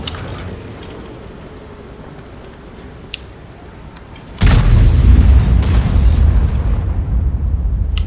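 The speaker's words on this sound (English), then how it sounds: "I love the sound of this gun." A tank's main gun fires in a tank video game, a single heavy boom that erupts suddenly partway through and rolls on as loud low rumble, with a second crack layered on soon after.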